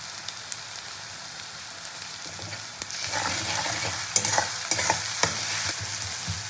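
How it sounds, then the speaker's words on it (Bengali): Onion fries in oil with garlic paste while being stirred, a steady sizzle that grows louder midway, punctuated by sharp scraping and clinking strokes of the spatula against the pan. "রসুন বাটা দিয়ে নাড়াচাড়া করে দেবো"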